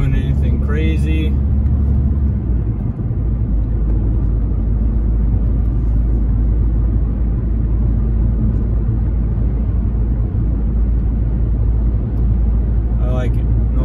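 A car with a Tekmektronic stage 1 tune accelerating smoothly in normal driving, giving a steady, continuous low rumble from inside the cabin with a brief voice near the start and end.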